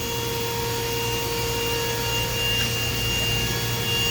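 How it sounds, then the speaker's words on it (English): DMG Mori Seiki DMC 1035V vertical machining center thread milling, a steady dense machine drone with constant high whining tones and grinding noise, continuous and close throughout with no talk. "this is a thread milling process"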